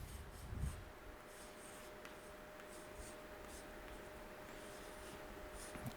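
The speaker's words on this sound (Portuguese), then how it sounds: "Eu vou escrever a palavra conquista aqui." Handwriting the word conquista during a lesson, soft continuous scratching of pen or chalk strokes with a light bump at the start, close but faint under a steady background hiss.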